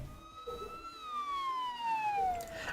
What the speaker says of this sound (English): several police cars zoomed down the street, sirens wailing